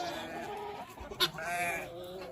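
Young lambs or goat kids bleat on a cold morning homestead, a few wavering, nasal cries at close to mid range, with one sharp louder call in the middle.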